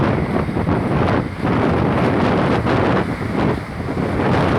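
Strong seaside wind in Batangas buffets the microphone in a continuous, heavy roar with rising and falling gusts; no voices.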